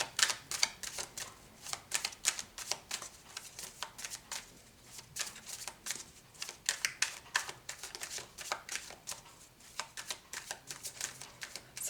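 Tarot cards riffle and snap as they are shuffled and drawn, a long run of quick, close, crisp card flicks in uneven bursts with short pauses between.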